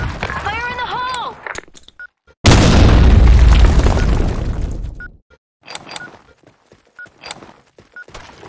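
A grenade in the shooter game BlackShot bursts with a sudden loud boom that rolls off over a couple of seconds, with scattered gunfire clicks and game voices before and after.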